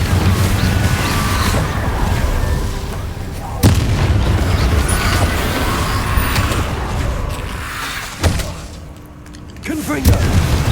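Spell explosions from Confringo in Hogwarts Legacy, several loud booming blasts within a dense din of combat noise, spaced a few seconds apart.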